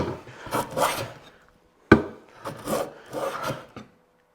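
A hand plane shaves across a wooden cutting board in long rasping strokes, two in quick succession, a pause, then a sharp start and several more rhythmic passes, close and crisp, with no speech.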